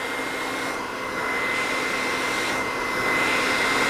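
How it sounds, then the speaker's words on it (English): A hair dryer blows hair dry with a steady, close, whooshing airflow under a constant motor whine. The rush of air swells slightly as the dryer moves. "by now, I would have finished blow drying her hair"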